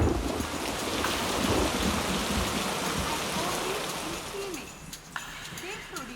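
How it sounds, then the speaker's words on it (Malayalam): Heavy rain pours down outdoors as a dense, steady wash of hiss that stays fairly loud throughout, easing slightly near the end, with a low rumble underneath. "പുറത്ത് നല്ല മഴ."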